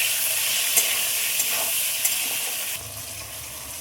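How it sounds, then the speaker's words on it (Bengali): Spices, tomato and aromatics fry in oil in a pan, giving a steady close sizzle broken by a few clicks of a stirring utensil, with no talk. "ভাজার জন্য খুব ভালোভাবে নেড়ে দেবো।"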